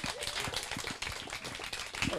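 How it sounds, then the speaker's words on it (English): Steady audience applause with many hands clapping at a coworking startup meetup in Bali, moderately faint and continuous, with a few voices mixed in. "So can you please give Faye a huge round of applause?"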